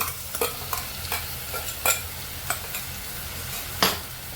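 Tomato and red chilli purée stir-frying in a pan for paneer chingari bhaji, a steady close sizzle broken by sharp, regular scrapes of the spoon against the pan.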